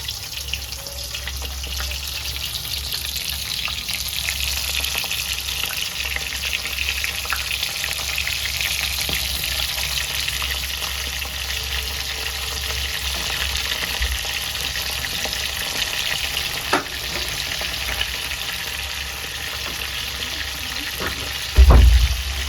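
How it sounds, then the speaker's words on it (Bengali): Prawns frying in hot oil in a wok, a long continuous close sizzle with a low steady rumble underneath and occasional faint clinks, ending in a brief louder knock. "আর এবার একে একে এই চিংড়ি মাছগুলোকে ছেড়ে দেবো, ভাজা হতে দেওয়ার জন্য ছেড়ে দেবো।"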